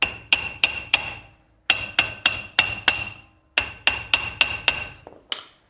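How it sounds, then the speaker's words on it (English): A hammer taps repeatedly on the rear brake drum of a VW T2 Bay, sharp metallic knocks in three bursts of four to six strikes each, close and loud with short pauses between groups. "We're going to tap with a hammer."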